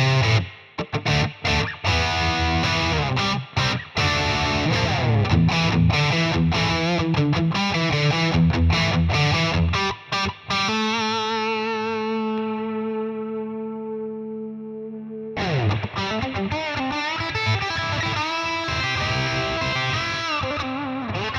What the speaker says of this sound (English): But maybe it's better with short reverb.